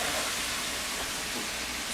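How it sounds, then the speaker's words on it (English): Marinated chicken shish tawook sizzles in a hot pan, making a steady, faint, even hiss with no talk over it. "So you can hear it sizzle."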